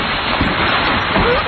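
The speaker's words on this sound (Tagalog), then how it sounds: "Ang lakas-lakas ng ulan!" Heavy rain pours down steadily during a nighttime scene, a dense continuous hiss with low rumbles like distant thunder or wind beneath it.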